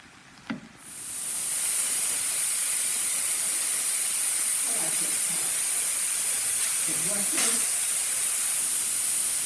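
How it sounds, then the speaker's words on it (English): A pot of collard greens with turkey necks cooking down, giving off a steady loud steamy hiss that rises after a brief start and holds evenly, with faint clinks and a voice in the background. "Letting this pot mess of greens just cook down into their deliciousness"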